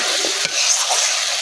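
Spices frying in a light film of hot oil with sun-dried pumpkin lentil dumplings make a loud, close, steady sizzle with a few stirring scrapes and crackles, and no voices.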